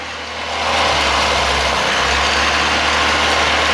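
A VAZ 2109 car engine idles loudly and close, its revs sagging as carburetor cleaner is sprayed into the carburetor, giving a dense, rough, continuous rumble.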